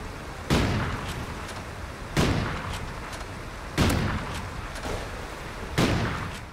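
Four sniper rifle shots ring out in a video game, each one a sharp, loud crack followed by a decaying echo, evenly spaced about every one and a half seconds, with no voices over them.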